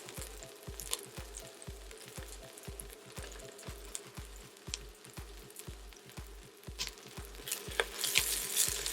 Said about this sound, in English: I'm gonna drop the garlic